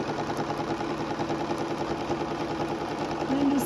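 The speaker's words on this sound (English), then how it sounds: "I'm just sewing along the edge." A sewing machine stitches steadily along the binding edge of a quilt, giving off a continuous even motor hum with a fine rapid needle chatter and no pauses.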